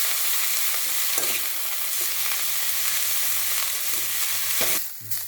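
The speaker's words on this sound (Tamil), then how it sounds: "இப்போ பச்சை கொத்தமல்லியை சுத்தம் பண்ணி கழுவி வச்சுருக்கேன் இதை நல்லா சூடுல வதக்கணும்" Fresh coriander leaves are sautéed in a hot pan, giving a loud, continuous close sizzle with occasional stirring knocks and a sharper clatter near the end.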